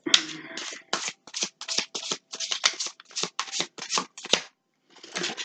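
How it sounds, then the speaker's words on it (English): Tarot cards riffled and shuffled by hand, a rapid series of crisp papery flutters close up, ending with a short pause and one last card slap. "So we'll pull 3 more clarifying cards, please."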